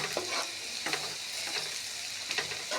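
Onions sizzle in a pan with chili powder, turmeric and salt for a dry prawn tomato curry, a close continuous fry broken by several sharp scraping stirs of a spoon against the pan.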